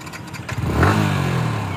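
A motorcycle idles close by, then its engine revs up and holds a rising drone as a learner rider works the clutch in a park.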